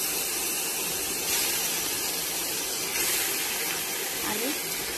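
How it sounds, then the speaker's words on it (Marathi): Washed, chopped eggplant pieces hit hot fried masala in a pan, raising a steady, loud broadband sizzle that hisses continuously for several seconds with slight surges. "तर आता ही वांगी आपण याच्यामध्ये ॲड करूया"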